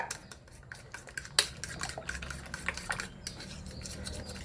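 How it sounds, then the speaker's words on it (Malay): A utensil stirs flour into a wet mixture in a bowl, producing quick scraping and clinking strokes in an uneven rhythm, close and fairly quiet. "Kita kacau tepung ni sampai dia bercampur ya"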